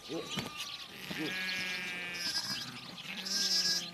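Sheep flock on a pasture at a herding camp, several wavering bleats overlapping at moderate distance, some rising and falling calls, with a narrator speaking over them.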